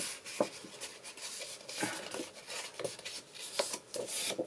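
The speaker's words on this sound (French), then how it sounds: "Donc, on marque nos plis." Paper folds being creased for a handmade scrapbook album, heard as close, quiet rubbing and scraping strokes in an uneven rhythm with small taps in between.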